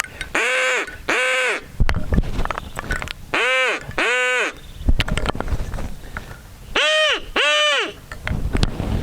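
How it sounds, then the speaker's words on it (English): A duck call blown with the wrong kind of air, high velocity and low pressure, gives repeated paired honking bursts, each two quick buzzy notes, in three loud close groups that sound more like a party noisemaker than a duck. "If I blow that into a duck call, watch. It's not right."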